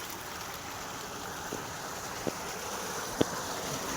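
Water from a canal irrigation pipe falls steadily in an open field, making a continuous, moderately loud rushing wash with a few faint knocks and no talk.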